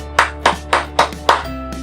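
Five slow, evenly spaced hand claps ring out close and clear, one roughly every quarter second, over a low steady hum in a kindergarten lesson.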